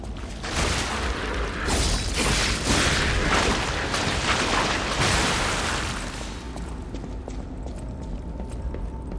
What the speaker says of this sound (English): Forgot about the explosion.